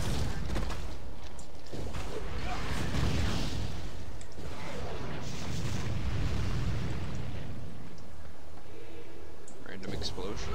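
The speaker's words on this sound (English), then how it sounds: "Random explosion." A loud, rumbling explosion in the video game Torchlight II, with a deep, booming low end that rolls on for several seconds amid dense game-style noise.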